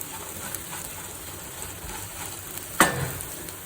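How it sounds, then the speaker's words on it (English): Crispy fried potatoes are tossed with salt in a pan, giving a soft steady sizzle and faint stirring, with one sharp metallic scrape or clink near the end. "After adding salt, mix well."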